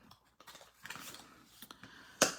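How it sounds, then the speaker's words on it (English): A bone folder folds and burnishes scored card. Dry, close rubbing and rustling rise and fall, then one sharp, louder crease snap near the end, with no talking. "So we're going to fold and burnish with our bone folder."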